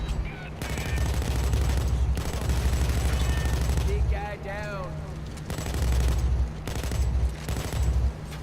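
Rapid gunfire from a Payday 2 Crimewave Edition firefight, dense overlapping bursts and shots that run almost continuously at a steady loud level, with short lulls and some game effects mixed in.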